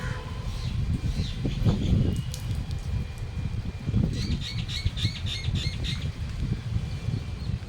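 Birds squawk in a quick run of repeated harsh calls midway, close by, among staked vegetable vines, over steady outdoor rustling and wind.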